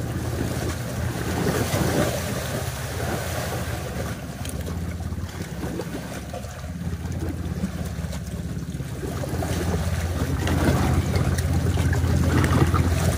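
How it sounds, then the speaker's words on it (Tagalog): Choppy wake waves from a passing boat slap and wash around a small fishing boat on open water, with constant wind buffeting the microphone and a slow swell in loudness. "Medyo maalon lang dahil doon sa dumaan na ayun mga bro, nagbibit na. Medyo maalon lang mga bro dahil dun sa dumaan na no, na bangka"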